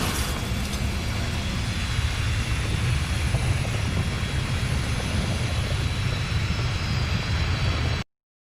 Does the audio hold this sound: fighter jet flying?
yes